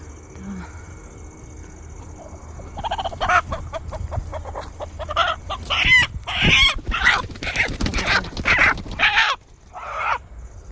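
Native gavran chickens at a village poultry farm in Jalna: quiet at first, then a bird bursts into loud, close, rapid clucking and squawking for several seconds before it settles.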